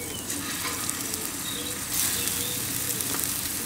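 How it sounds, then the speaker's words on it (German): Meatballs fry in hot olive oil in a pan for a Moroccan meatball skillet, giving a steady, close crackling sizzle that swells louder partway through. "als erstes braten wir die Fleischbällchen an"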